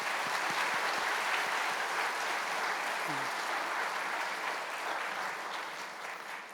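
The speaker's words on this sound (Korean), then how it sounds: "격려하는 박수 한번 할까요?" Church congregation applauding children at a Sunday worship service, a steady dense wash of clapping from a large room that holds for several seconds and slowly tapers, with a faint voice briefly underneath.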